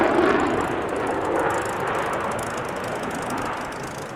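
A Canadian CF-18 fighter jet roars overhead at an airshow, a steady broadband rumble and whoosh that stays loud and constant throughout, slowly easing off toward the end.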